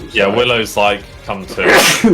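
A single sneeze bursts out partway through a lively tabletop role-playing game session, set among several people talking around it.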